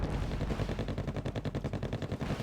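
Rafale jets fire on a MiG-25 in Wargame Red Dragon, a rapid rhythmic burst of gunfire rattling steadily for a couple of seconds, loud and continuous with no talking.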